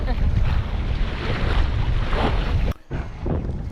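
Strong wind buffets the microphone and waves rush past the hull of a sailboat heading upwind while tacking, loud and steady with a brief dip near the end.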